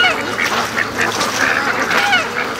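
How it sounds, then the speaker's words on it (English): Geese honk loudly at a lake, with overlapping nasal calls repeated close by over a steady outdoor background, where ducks are also kept. "Okay, there are geese. I can hear them at the lake."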